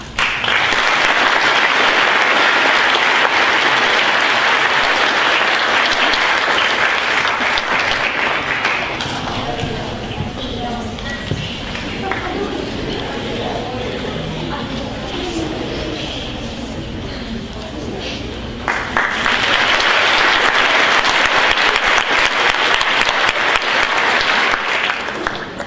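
Audience applause fills a junior high school awards ceremony, loud and steady at first, easing into a quieter stretch with faint murmuring, then swelling again into a full round of clapping.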